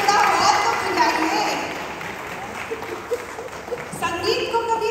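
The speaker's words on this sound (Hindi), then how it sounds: "तालियों की गड़गड़ाहट से थोड़ा हाथ तो खिलाइए" Audience applause at a musical charity show for Indian expatriates in Ghana, a dense crowd clapping that starts strong, fades slightly, then swells again near the end, mixed with lively chatter and voices.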